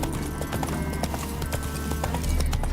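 Horse galloping in the video game The Witcher 3, rapid rhythmic hoofbeats clopping steadily and close over a low rumble, alone without talking.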